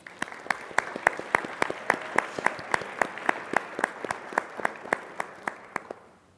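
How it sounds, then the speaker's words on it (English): A small audience applauds the sponsors at a college alumni hall of fame event, sparse individual claps ringing out in a steady patter for about six seconds before fading. "Please give our sponsors a round of applause."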